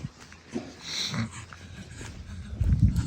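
A pug out on a weekend walk sniffs and snorts close by in short bursts, ending in a louder low snuffling rumble.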